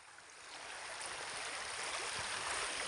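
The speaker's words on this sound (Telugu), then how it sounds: "ఇక్కడైతే చాలా జలపాతం అయితే పారుతుంది" A waterfall stream pours steadily in a rural outdoor spot where farm laborers wash their hands, a constant rushing, gurgling flow that swells slightly and stays loud and close throughout, with no talk.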